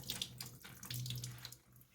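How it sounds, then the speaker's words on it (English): Cool, room-temperature tap water runs steadily over wool yarn being prepared for acid dyeing, a close, continuous faucet splash and trickle heard alone for two seconds. "run a little bit of water over it, just cool water temperature, just room temperature water"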